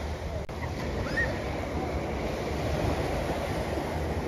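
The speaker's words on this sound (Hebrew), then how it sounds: "יש פה חוף ים." Waves wash steadily onto a beach in Thailand, a continuous close surf roar with wind buffeting the microphone, no talk over it.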